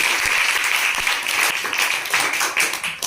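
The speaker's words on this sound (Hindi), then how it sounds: "एक बार जोरदार ताली बजा दीजिए।" Audience applause at a science quiz show prize announcement, a dense, steady burst of clapping from a large crowd that continues for about three seconds without speech.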